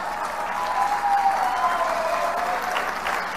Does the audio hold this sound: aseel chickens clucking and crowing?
no